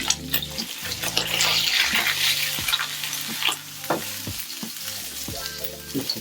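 A steelhead trout fillet frying in a pan gives a continuous close sizzle with scattered crackles and pops, a faint hum underneath and no talking.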